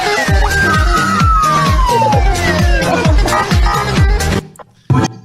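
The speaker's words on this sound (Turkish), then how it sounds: "La polis geliyor!" A police car siren wails in a long falling sweep over a thumping rhythmic beat with scattered voices, then the whole mix cuts out abruptly near the end.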